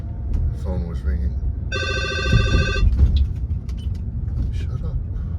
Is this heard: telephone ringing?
yes